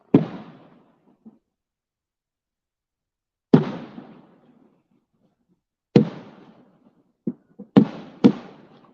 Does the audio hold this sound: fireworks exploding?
yes